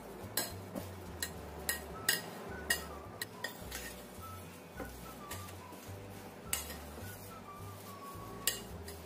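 Boiled potatoes are mashed with a spoon in a pan, producing quiet repeated metallic clinks and taps in an uneven rhythm over a low hum.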